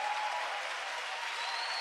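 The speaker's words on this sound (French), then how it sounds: "Applaudis-le, applaudis-le, applaudis-le, applaudis-le." A church congregation applauds in a dense, continuous wash of clapping that holds steady throughout, with faint voices mixed in.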